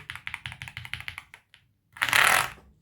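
Fast, crisp typing on a Yunzii IF99 mechanical gaming keyboard with a screen: a quick run of close, evenly spaced clacks, a short pause with one tap, then a dense burst of rattling keystrokes.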